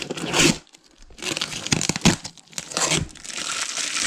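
Packing tape being torn and peeled off a parcel holding a prototype engine, sharp ripping and crinkling bursts in irregular pulls, close and loud, with short quiet gaps between.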